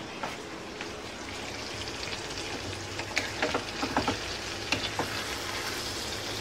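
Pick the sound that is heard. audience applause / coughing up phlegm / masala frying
masala frying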